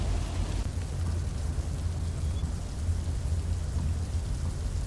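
Heavy rain pours steadily in Pune, a dense continuous hiss with deep low rumble underneath, no voices.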